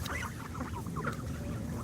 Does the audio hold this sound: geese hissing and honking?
yes